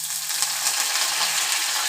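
Curry leaves hissing in hot oil among popping mustard seeds, preparing a pink fish curry: a dense, bright, continuous sizzle, close and fairly loud, with no talk.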